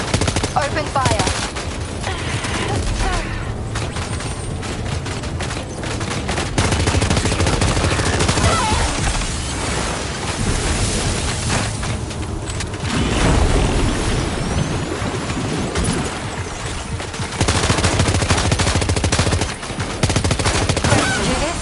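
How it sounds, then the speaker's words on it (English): Continuous gunfire and explosive bursts from the video game Death Stranding 2, a dense, loud barrage of shots running throughout with a steady backdrop of game music and effects. "Open fire."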